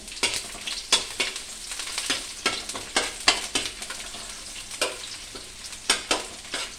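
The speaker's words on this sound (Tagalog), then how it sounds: "magisa na tayo guys. Siya natin tong bawang. Lagyan na rin natin tong sibuyas." Garlic and onion sautéing in a pan for a mung bean stew with eggplant and moringa, a steady sizzle broken by repeated scraping stir strokes, close and fairly loud with no talking.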